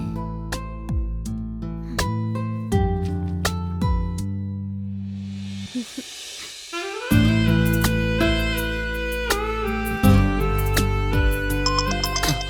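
A melodic phone ringtone plays loudly and steadily, its tune repeating, with a short break in the middle before it resumes.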